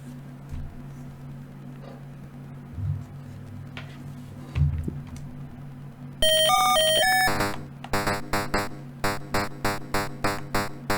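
Low hum, then sharp, beeping electronic tones from an Atari 2600 port of Smash TV or Pac-Man: a quick rising jingle, then repeated harsh bursts in a steady rhythm.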